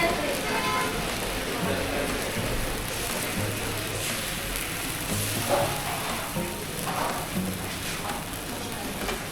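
Crispy dosa batter sizzles on a griddle over a wood-fired stove at a rural hotel, a steady dense hiss close by with people talking in the background.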